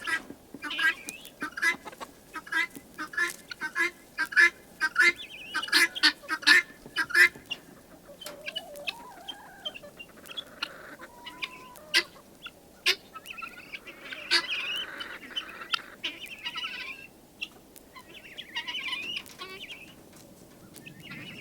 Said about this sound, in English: That's a male guinea that just flew in with the big girls.